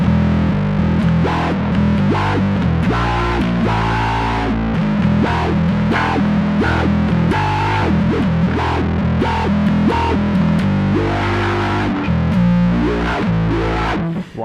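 Bass guitar played through a Zoom B1 Four multi-effects pedal on its distortion wah setting, loud, gritty notes with a sweeping filter, plucked in a lively riff that fills the clip.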